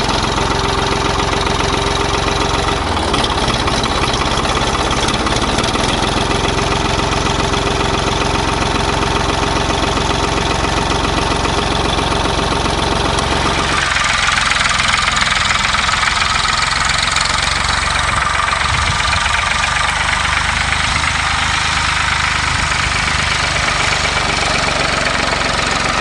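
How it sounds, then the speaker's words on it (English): A farm tractor fitted with a plow idles nearby in a steady, continuous engine rumble, with a slight change in tone about halfway through; no voices are heard. "This particular tractor is set up with a plow on it"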